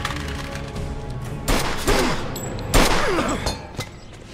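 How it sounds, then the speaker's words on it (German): Gunfire in Mafia 2 cracks out in a few sharp shots, three spaced bursts over a busy background of game sound and music, loud and close. "er hat dreimal geschossen"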